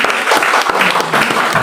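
Applause for a singer at a GKI Christmas church service rings out as dense, steady clapping from a congregation, loud and close throughout with no talk over it.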